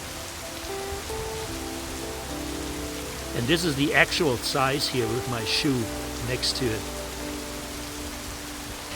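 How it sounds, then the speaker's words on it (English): Steady rain patters on a metal roof at a campsite in Franklin Mountains State Park as a constant hiss, while a person talks for a few seconds in the middle. "I don't know if you can hear the rain on the metal roof here"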